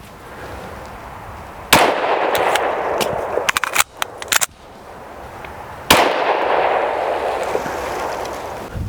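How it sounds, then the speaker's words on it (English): Two loud, close pistol shots a few seconds apart, with the clacks and clicks of a magazine reload between them, over steady outdoor background noise. "We're gonna fire 1, reload, fire 1."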